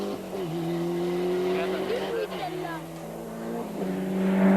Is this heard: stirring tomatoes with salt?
no